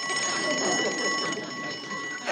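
An old-fashioned telephone bell rings continuously in a steady metallic trill in a sitcom scene, loud and close throughout.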